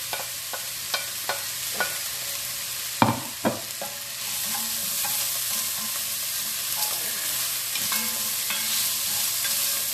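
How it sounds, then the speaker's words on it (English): Red and white onion, tomato, thyme and spring onion sizzle in a pan, a steady soft frying hiss broken by a few clinking stirs of a utensil early on, with no voices. "So I'm gonna let that saute down for about 3 minutes"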